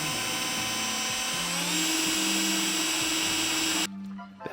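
A Milwaukee Magnum drill whines loudly and steadily as a step bit bores through metal, its pitch shifting under load before the motor cuts off and spins down.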